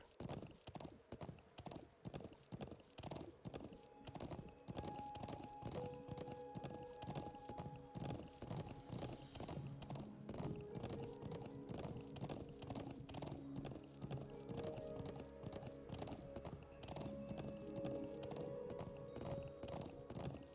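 Rhythmic clip-clop of video game horse hooves trotting steadily, loud and close, with occasional whinnies and light music underneath.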